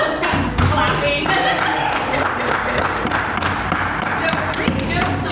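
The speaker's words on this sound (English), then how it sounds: "You can clap." An audience at a historical presentation at Fort Mifflin claps, a burst of dull, thudding hand claps with a fairly regular beat that carries on under people talking.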